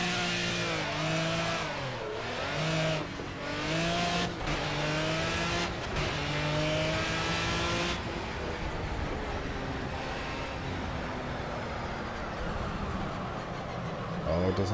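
Race car engine in the Project Cars video game, revving and shifting through gears with rising and falling tones, then a steady high drone of engine and tire noise, loud and continuous, with someone talking over it.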